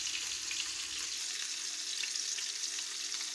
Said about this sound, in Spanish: Ahora lo iremos dorando también por los laterales para que se tueste bien.